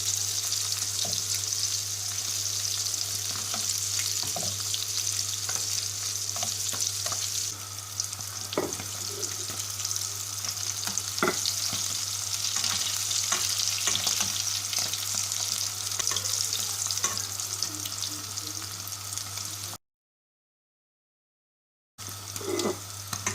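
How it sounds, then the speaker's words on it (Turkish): Oil sizzles and crackles steadily as cheese sticks fry in a pan, with occasional clinks and stirring, then a short silence near the end. "Önlü arkalı kızartıyoruz."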